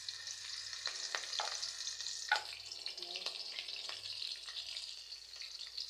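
Two green chillies frying in hot oil in a pan while cooking prawn pepper fry, a steady sizzle and crackle with scattered sharp pops throughout.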